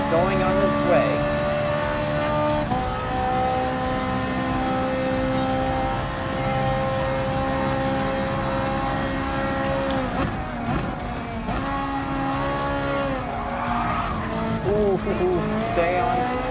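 Race car engines in Gran Turismo Sport, a Nissan GT-R closing on a BMW M6 at the Nürburgring 24-hour race, drone loudly and steadily throughout with shifting pitch, while a voice talks over them.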